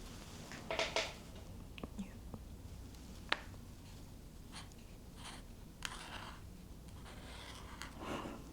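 A pen scratches softly across paper up close, in faint, irregular strokes and taps, with quiet whispering around it.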